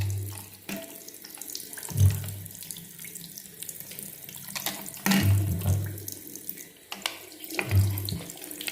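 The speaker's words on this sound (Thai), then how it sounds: "เปิดน้ำไหลผ่านเลย ล้างให้ทั่วครับ" Tap water runs steadily, splashing and gurgling as it pours over glasses held beneath, with several louder surges along the way.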